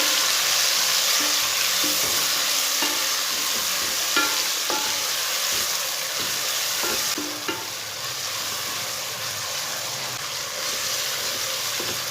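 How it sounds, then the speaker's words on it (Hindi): Chopped tomatoes and green chilies fry with beef in a pot, a loud continuous sizzle close by with intermittent stirring knocks and scrapes. "टमाटर और सब्ज़ मिर्चें को भी 3 मिनट तक पका लेंगे।"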